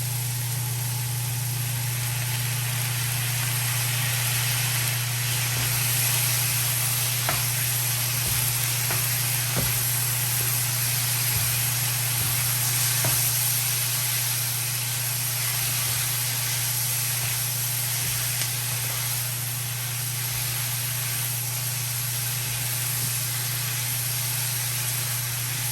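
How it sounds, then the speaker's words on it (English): Shrimp chow mein sizzles loudly and continuously in a hot pan after sauce goes in, a dense hiss over a steady low hum with a few faint taps. "now I'm gonna go ahead and add my sauce"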